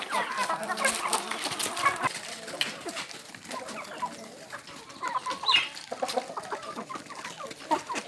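A hybrid hen bred from a rooster and a guinea fowl clucks intermittently on a farm, faint and at a moderate distance, amid other chickens and light background noise.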